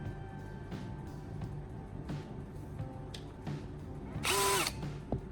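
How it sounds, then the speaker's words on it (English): A drill bores small holes in a charger's plastic casing, a close mechanical grinding with short repeated bursts and a louder high-pitched whine near the end. "I'm marking 2 points on the charger's casing and then using a drill to create small,"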